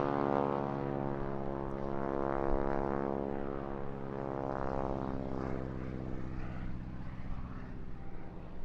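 Propeller airplane at an airshow droning steadily overhead, a loud, sustained engine hum that slowly shifts in pitch as the aircraft manoeuvres, with no voices.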